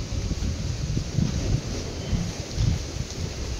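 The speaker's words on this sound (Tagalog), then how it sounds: "Naku, sobrang hangin." Strong outdoor wind buffets the microphone in low rumbling gusts, swelling and easing irregularly over a few seconds with no talk.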